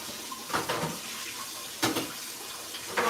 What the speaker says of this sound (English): So I'm gonna wash my hands again.